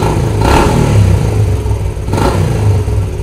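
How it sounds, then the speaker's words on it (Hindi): A Bajaj Platina motorcycle engine, loud and close, runs with a steady low thrum and is revved twice with the throttle opened, each swelling briefly before settling back to idle. "अब हल्का सा थ्रॉटल खोलते हैं, बहुत हल्का सा।"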